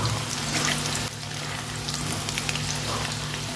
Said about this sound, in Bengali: এইভাবে লাল লাল করে ভালো করে ভেজে নেব।